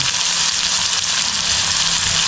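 Garlic, tomato, onion and chilli frying hard in a pan, a loud, dense, close sizzle crackling continuously without a break, no voices.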